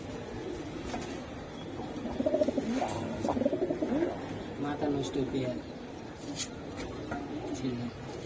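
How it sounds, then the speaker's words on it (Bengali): Pigeons at a Bangladeshi loft selling highflyer breeds coo in low, soft repeated bursts, close by, while someone talks over them almost continuously. "অনেক সুন্দর একটা কবুতর আমি দেখাই দিলাম"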